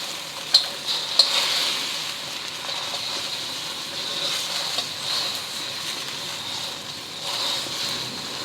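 Eggs frying in hot oil in a preheated wok, a steady close sizzle with a couple of sharp crackles early on and the hiss swelling and easing, no talking.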